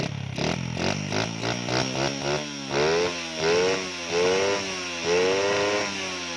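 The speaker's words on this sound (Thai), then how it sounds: "เพราะว่าผมจูนไล่คาบูให้กับมือนะครับ" A small motorcycle engine with a freshly tuned carburetor revs again and again, with short rising bursts of throttle that climb and fall back to a buzzing idle, loud and close with no voices.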